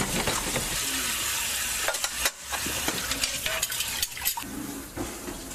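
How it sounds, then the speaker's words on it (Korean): Dishes washed at home after a meal, with steady running water and clinking of cutlery and dishware close by, continuous with small knocks and clatters and no talking. "설거지 도와주는 게"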